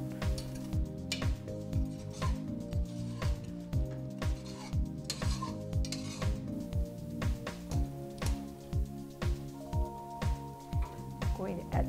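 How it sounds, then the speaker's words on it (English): A metal spoon scrapes the bottom and sides of a beef stew pan, loosening browned fond in a steady run of close, rhythmic strokes with faint sizzling beneath. "scrape the bottom of the pan and the sides of the pan to loosen all of that fond"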